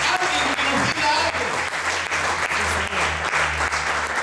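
A church congregation applauding, dense and even clapping from many hands that continues steadily throughout.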